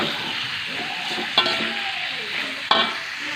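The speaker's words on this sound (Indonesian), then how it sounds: "Kita masukkan telur dan tahunya ya. Kita aduk-aduk." Eggs and tofu frying in a pan for a sweet soy-braised dish, stirred steadily with a constant close sizzle and two sharp utensil clacks against the pan.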